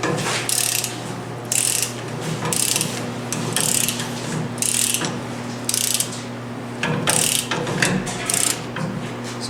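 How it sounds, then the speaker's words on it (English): A ratchet tightens the differential caps on a Dodge Ram 1500, giving bursts of rapid metallic clicking in a repeating rhythm over a steady low hum, close and clear. "we're going to take our ratchet and we're going to tighten this side down"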